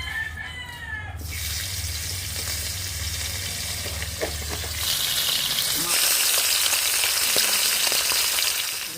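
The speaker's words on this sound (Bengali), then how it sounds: "মাছের মাথাটা ভাজার জন্য সর্ষের তেল দিয়ে দেবো তেল গরম হয়ে গেছে মাছের মাথাটা দিয়ে দেবো ভালো করে ভেজে নেবো" A hilsa fish head fries in hot mustard oil, producing a steady, close, loud sizzle that grows brighter and more intense partway through, with occasional stirring.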